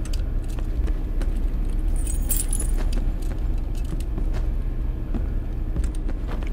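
Keys jangle briefly midway as a key is picked up in the Backrooms video game, a short metallic rattle over a steady low in-game hum and rumble.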